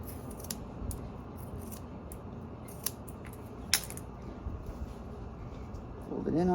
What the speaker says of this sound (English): I'm going to trim these frayed ends off.